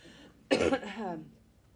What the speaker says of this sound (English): Excuse me, I just keep coughing